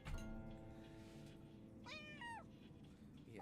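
Cat meowing in the video game Persona 3 Reload: a single drawn-out, wavering meow midway, faint over a steady low background hum and music-like tones.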